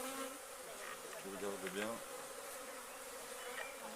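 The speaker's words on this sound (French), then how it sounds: "il y a un fameux paquet d'abeilles" Many honey bees hum in a dense, continuous buzz close by, while a person speaks briefly over the swarm.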